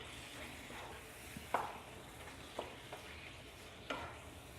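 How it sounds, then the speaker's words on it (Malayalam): Minced chicken with black pepper and curry leaves being stirred in a pan, soft steady frying hiss with a few distinct scraping clacks of the spoon at intervals, fairly quiet and close. "ഇതിന് നന്നായി ഇളക്കി കൊടുക്കുക."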